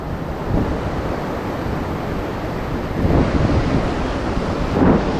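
Strong, white-capped ocean waves surging in steady rolling washes with gusty wind buffeting the microphone, the surf swelling louder near the end.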